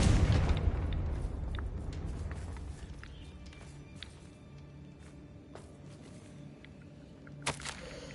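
A Confringo fire spell explodes in a video game, a loud low boom right at the start that rumbles and fades over several seconds into quiet ambience, with a brief sharp pop near the end.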